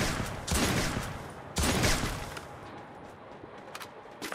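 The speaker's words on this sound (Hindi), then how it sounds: "अभी ये देखो क्या ही M2B मारे जा रहा हूँ, धड़ धड़ा धड़" An M2B machine gun fires in a video game, two long close bursts of rapid loud shots followed by quieter scattered gunfire.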